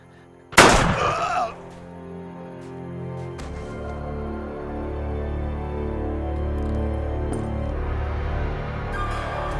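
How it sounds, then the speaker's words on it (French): One sharp, loud gunshot cracks near the start, then rings out into a sustained low tonal drone that swells and holds. "C'était un coup de feu, ça?"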